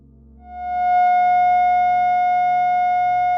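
A steady pure F sharp sine tone fades in and holds at a constant pitch, clean and electronic, with no other sounds around it.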